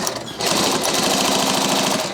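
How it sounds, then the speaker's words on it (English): Sewing machine fitted with a binding attachment stitching binding tape onto a backpack, a loud, steady rapid mechanical rattle that starts after a brief quieter moment and runs without a break, up close with no talking. "Go ahead and stick this in the binding machine."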